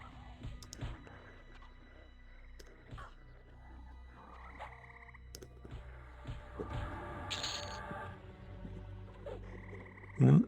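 Froglok creatures in the EverQuest game croak in scattered bursts over a quiet game soundscape with clicks, ending in a sharp loud hit.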